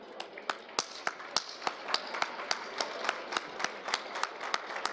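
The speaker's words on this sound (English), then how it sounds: "give these ladies and gentlemen a big round of applause" Sparse, distinct hand claps at an awards gala, fairly evenly spaced and crisp, suggesting a small group clapping rather than a full crowd roar, over a faint room background.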